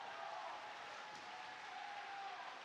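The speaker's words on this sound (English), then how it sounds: "Let's hear it for the first place champs, Void and the Cat." Continuous crowd applause from a packed esports audience at EVO 2022 cheering the first-place winners of a MultiVersus tournament, a steady dense wash of clapping with no break.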